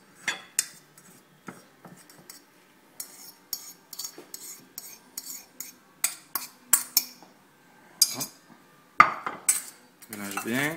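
Hard-boiled egg yolks mashed with a fork in a bowl for mayonnaise, a close run of irregular clinks and scrapes of metal on dish with short pauses, no voices.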